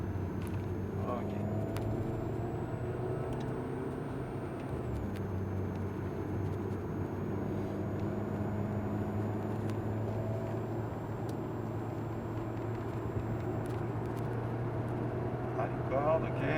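An Alpine A110S drives hard on the Lohéac circuit, its engine a steady droning hum that dips under braking and downshifting, heard from inside the cabin while people talk over it.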